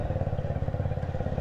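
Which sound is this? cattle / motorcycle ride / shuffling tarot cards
motorcycle ride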